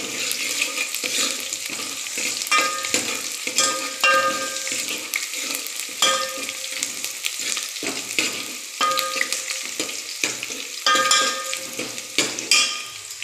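Chopped onion and garlic sizzle loudly in a hot oiled pan, with repeated scraping and stirring of a utensil against the pan running over the constant frying hiss.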